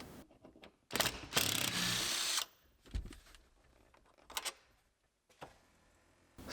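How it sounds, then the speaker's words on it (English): Ratchet unbolting seat tracks inside a 2018 GMC Sierra Denali pickup during an interior strip-down: bursts of loud mechanical ratcheting and clicking with pauses between, no talking. "I'll unbolt the seat tracks again."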